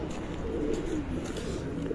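A Firozpuri pigeon coos softly, a low, continuous, throaty murmur close by with no speech.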